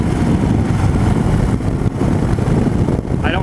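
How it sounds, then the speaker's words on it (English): Loud, close engine roar from a 2016 Harley-Davidson Fat Bob V-twin motorcycle while engine braking in a higher gear, dense rumbling exhaust mixed with wind buffeting, continuous throughout. "Even at a higher gear, it's got good engine brakes to it."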